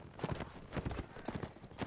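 Horses gallop in the medieval combat game Mount and Blade: Warband, a fast, faint clatter of hooves in quick irregular bursts.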